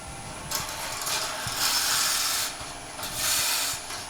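Wood lathe boring a hole through a wooden table lamp blank from the tailstock end, a steady hum with rhythmic bursts of raspy cutting and scraping as the cutter feeds in and withdraws.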